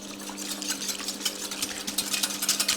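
An egg being handled in a kitchen while making a chocolate dessert, with rapid light taps and clinks against a bowl over a steady background hum, close and continuous.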